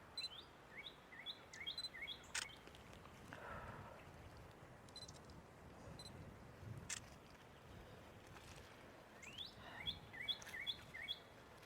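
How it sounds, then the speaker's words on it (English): Small birds chirp and tweet in short, repeated bursts across a quiet cemetery, the calls fairly faint and distant over a low background of wind and outdoor hiss. "Can you hear the pretty birds?"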